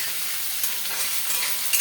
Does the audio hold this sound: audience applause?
no